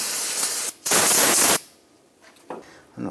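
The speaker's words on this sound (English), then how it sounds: "go ahead and spray it down with some solvent." Aerosol solvent sprayed onto a rusty wheel hub flange of a 2006-2010 Hummer H3, two loud hissing bursts, the second longer, followed by faint rattles and a short final spritz.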